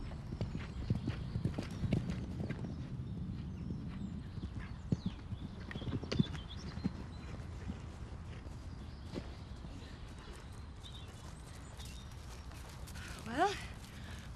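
Horse hooves clip-clop at a steady walking pace outdoors, mid-distance and moderately loud, under people talking, with a horse whinnying once near the end.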